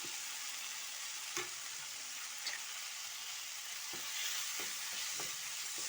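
Sautéed tomato with chili powder fries in a pan, giving a steady, soft hiss of sizzling oil throughout with a few faint scrapes and stirs, close and quiet, no talking.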